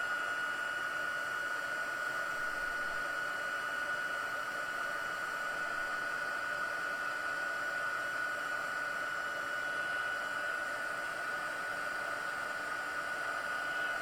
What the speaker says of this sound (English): the heat tool does get very hot